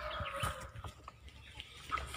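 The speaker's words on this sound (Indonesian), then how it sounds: "Ya, banyak ayam." Chickens clucking at a rural spot beside fishing ponds in the fields, several soft irregular clucks and calls over a low background murmur, moderately distant.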